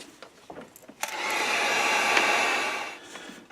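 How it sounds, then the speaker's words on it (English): Heat gun blowing hot air to dry paint on a crappie fishing lure, a steady whooshing roar that starts abruptly after faint handling noises and runs for about two seconds before fading. "we're going to hit that with the heat gun. I'm going to dry that just a little before I remove that tape"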